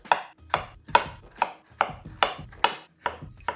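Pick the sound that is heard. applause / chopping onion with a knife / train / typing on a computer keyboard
chopping onion with a knife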